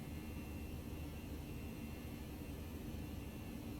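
An Airbus A319/A321 in the X-Plane 11 flight simulator lifts off from Heathrow, its engines giving a steady, loud, broadband roar with no change in level and no other sounds.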